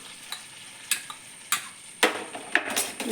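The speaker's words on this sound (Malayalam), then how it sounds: "ഒന്ന് ഇളക്കി കൊടുക്കുക" A spoon scrapes and clicks around a pan of green peas curry with black pepper, several distinct stirring strokes over a soft sizzle, close and moderately loud.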